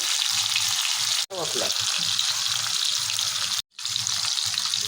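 Sausages fry in hot oil in a pan on a gas stove, a loud steady sizzle that is briefly interrupted twice, with a stirring scrape partway through.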